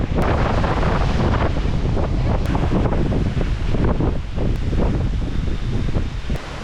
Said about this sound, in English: Because it's a little bit windy